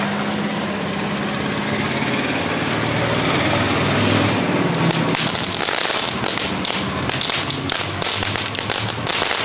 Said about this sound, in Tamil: இந்த ஸ்மோக்கிங் கன் வந்து ஃபஸ்ட்டு வந்து கிராக்லிங் வரும்